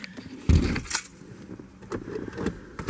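Car keys jangle close by in a few sharp metallic shakes, loudest early on, followed by softer clinks and handling noise.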